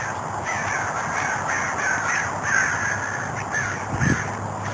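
A large flock of 50 to 100 crows in a tree keeps up a steady, overlapping chorus of harsh caws, a continuous outdoor din in a lakeside park that swells and ebbs slightly.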